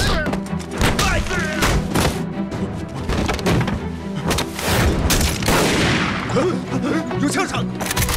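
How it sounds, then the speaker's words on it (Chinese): Repeated gunshots crack out in sharp bursts in a scene from a war film about fighting against Japanese troops, mixed with thuds and shouting voices. "有枪声！"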